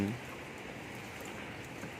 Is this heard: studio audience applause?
no